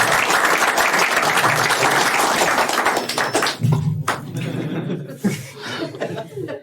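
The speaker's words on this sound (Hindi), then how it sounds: "जोर से ताली बजाइए." Dense, loud audience applause greets a stand-up comedian, fading after a few seconds into scattered claps and chuckling laughter.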